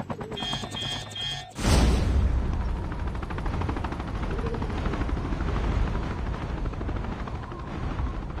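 Helicopter in the Call of Duty Mobile battle royale game: a sudden loud thumping rotor and engine drone that starts partway in and continues steadily, with a faint background tone before it and no talk.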